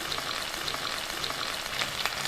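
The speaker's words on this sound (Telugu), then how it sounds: "ఉడికించి పెట్టుకున్న కాకరకాయ ముక్కల్ని ఇందులో వేసేసుకుందాం" Boiled bitter gourd pieces fry in hot oil in a pan, giving a steady, close crackling sizzle throughout with no voices.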